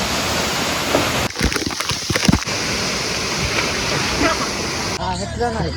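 Steady roaring rush of falling water at a waterfall in Akole fills the scene, with brief scuffing noises and a burst of voices near the end.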